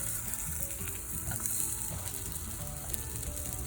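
Mutton shami kebabs fry in a pan with fat, a steady, close, crackling sizzle that continues without pause and no voices.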